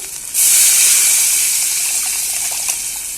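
Water gushes suddenly into a cooking pot and keeps pouring in a steady, bright hissing stream, close and loud, with no one speaking.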